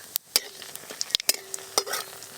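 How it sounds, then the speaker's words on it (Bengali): Whole cumin, asafoetida and a dried red chilli hit hot oil, sputtering in sharp scattered crackles and pops over a faint sizzle, with a few metallic clinks of a spoon and no voices. "ফোড়নে গোটা জিরে দেব, আর দেব হিং, একটা শুকনো লঙ্কা।"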